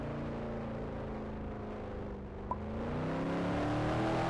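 A McLaren car's engine in the Roblox game Taxi Boss, a steady droning hum that rises in pitch near the end with a brief click midway, heard alone without speech.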